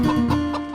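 A rooster clucks in a few short, throaty bursts close by, a steady run of fowl calls with no one speaking.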